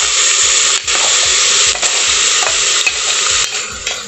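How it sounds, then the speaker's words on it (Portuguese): Bell pepper, onion and malagueta chili sautéing in a pan, a loud, dense sizzle close by, broken by a few short dips and scraping stirs, with no voices. "Dou uma refogadinha aqui nela, depois eu vou colocar o alho."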